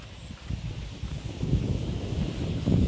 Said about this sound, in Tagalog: Ang hangin masyado.